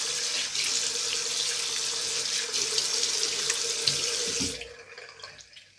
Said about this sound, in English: you rinse your face with warm water or cold water